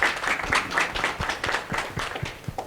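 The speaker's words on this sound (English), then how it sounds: "And please, let's give her a round of applause." An audience at a student governance forum applauds a speaker, a brief, dense patter of many hands clapping at moderate volume, fairly close and without talk.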